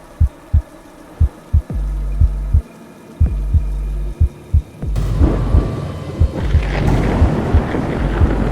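Heavy rain on a rainy night with deep thunder, a string of loud low booms and rumbles that give way to a dense wash of rainfall in the second half.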